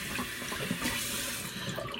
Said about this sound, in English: A quick rinse out my washcloth.